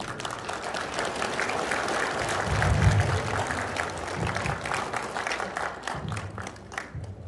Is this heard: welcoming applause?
yes